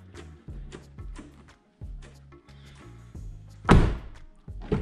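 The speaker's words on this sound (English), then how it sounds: "So now if we close the door, oh my god, it sounds so good." Repeated low thumps and knocks punctuate the clip, ending in a single heavy, solid thud of a 2009 Honda Accord V6 car door shutting close by.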